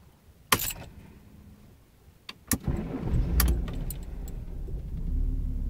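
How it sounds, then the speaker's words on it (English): A Jaguar car's engine is started from cold: a sharp clunk, then a second click as the starter engages, followed by the engine catching and settling into a steady, close rumbling idle. "We'll start the engine up now."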